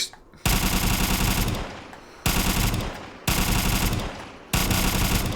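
A modded MP5 with a 50-round drum magazine fires 10mm rounds in Fallout 4. It lets out loud, dense full-auto bursts close up, four long sustained strings of rapid fire with short pauses between them and no talk.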